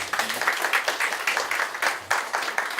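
Audience applause at a product demonstration event for Korean Bible software, brisk rhythmic clapping sounding steady and fairly close, with no voices over it.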